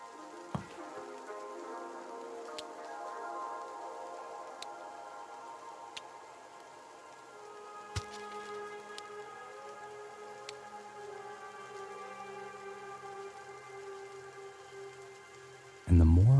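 Soft, steady video-game rain pattering on surfaces in a garden with occasional drips and ticks, calm and continuous, ending with a sudden louder burst.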